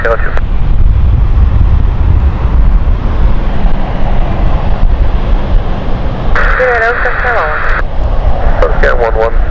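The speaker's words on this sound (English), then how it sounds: "Lux Air is about to go." A Luxair airliner takes off on runway 27 at London City airport, a loud, steady engine roar with wind buffeting, while radio chatter cuts in over it in the last few seconds.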